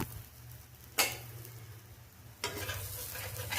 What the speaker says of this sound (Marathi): मग त्याला फ्राय करा.